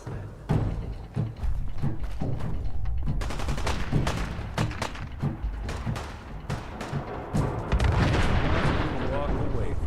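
Repeated gunfire in the video game Fallout 4, loud and close: a dense run of sharp shots and bursts, with heavier booming blasts toward the end.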